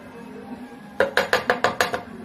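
A spoon clinking against a bowl while starch and flour are whisked together: six crisp, evenly spaced metallic taps in a quick rhythm follow a quieter stretch of soft mixing, heard close up.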